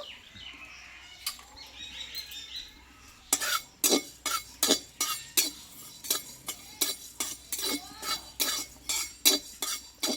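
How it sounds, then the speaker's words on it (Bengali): Panch phoron five-spice dry-roasted in a hot wok: after a quiet start, a brisk run of sharp rhythmic scraping and clinking strokes of a spatula against the metal, close and repeated. "এখানে হাফ চামচ মতো পাঁচ ফোড়ন নিয়েছি শুকনো খোলায় একটু"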